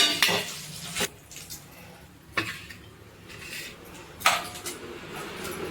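Fried eggs are shifted from the pan into a bowl: a metal utensil gives a few sharp clinks and scrapes against cookware, spaced a second or so apart, quiet and close with no talking.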